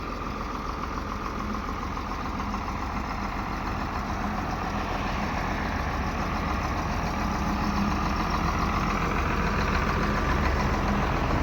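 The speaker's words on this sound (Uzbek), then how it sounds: "Xorazm Yuto 1404 traktorimizni Xorazm viloyatiga chiqazib yuboryapmiz" A YTO-1404 tractor engine idles with a steady, low mechanical rumble and faint knocking, running evenly and unbroken with nobody speaking.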